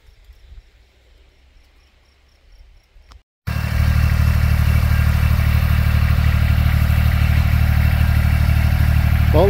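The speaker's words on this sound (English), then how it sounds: "Well, the tractor can pick it up." A few seconds of near silence, then a loud, steady engine roar kicks in abruptly and keeps running close by.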